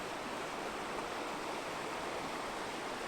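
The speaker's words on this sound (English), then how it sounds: "coming down, so we're back here at that creek again." Creek water flowing steadily along a woodland bank, a soft continuous broadband rush heard from nearby, faint and even with no voices.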